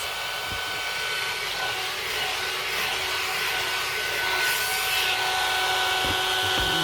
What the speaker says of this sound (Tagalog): Blower tayo ng buhok